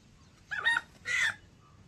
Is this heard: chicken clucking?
yes